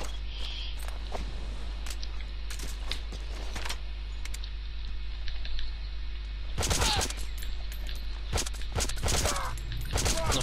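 Gunfire from the Metal Gear Solid 5 video game: several sharp bursts of shots crack out in clusters over a steady low hum, with a heavy volley near the middle and more shots toward the end.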